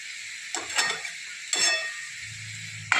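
Cabbage and peanut stir-fry cooking on a low gas flame gives a steady soft sizzle, broken by a few close scraping stirs and a sharp clink at the end.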